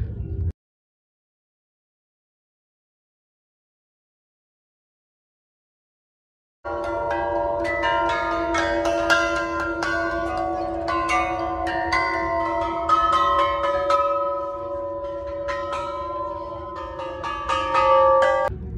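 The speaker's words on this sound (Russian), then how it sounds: "Это конструкция с колоколами." Bells ring on a bell structure at Burning Man 2022, a dense, sustained wash of overlapping metallic tones that starts after a few seconds of near silence and continues loud to the end.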